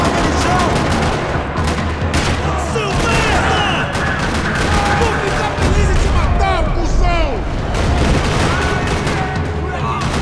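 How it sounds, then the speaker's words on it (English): Dense, continuous gunfire crackles throughout a parking lot in Max Payne 3, with overlapping bursts and distant booms forming a steady battle din, with some speech mixed in. "Another parking lot rattling with gunfire."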